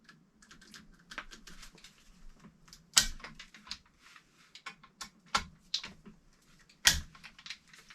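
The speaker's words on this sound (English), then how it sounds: "And I'm going to torque these down." Small screws on the trigger group of a Seekins Havak rifle being tightened down with a torque wrench, heard as a sequence of close, dry clicks and ticks spread irregularly, with a few sharper louder clicks standing out and no talking.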